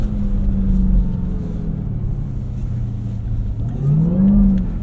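A 710-horsepower Dodge Durango SRT Hellcat Jailbreak AWD runs on snow at a rally school, its supercharged engine droning close and loud, then climbing in pitch as it revs up near the end, with no voices over it.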